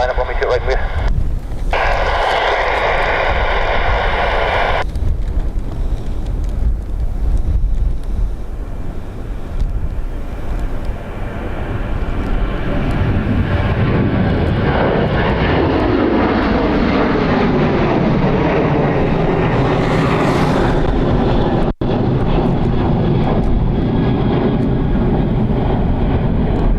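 Airbus A330 airliner engines at Dublin Airport give a loud, sustained broadband roar that swells and shifts in pitch across the whole stretch, with faint radio chatter over the top.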